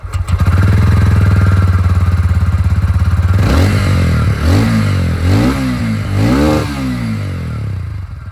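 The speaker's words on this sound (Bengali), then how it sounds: "দুটো বাইকের এক্সস্ট সাউন্ড শুনিয়ে দিই। স্টার্ট করি এখানে" A TVS Ronin 225 motorcycle's exhaust idles with a steady, loud, close throb, then gets revved in a series of sharp blips that rise and fall one after another.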